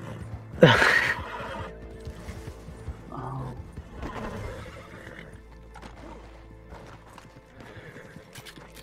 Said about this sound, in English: There's my horse, Flea Biscuit.